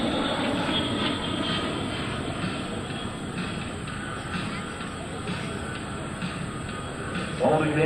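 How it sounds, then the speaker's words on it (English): Aerobatic airplane flown by Alan Smith through a hesitation four-point roll at an air show, a steady, continuous engine drone with broadband roar and crowd-like background noise, swelling slightly near the end. "stopping the aircraft at each 90 degrees of rotation"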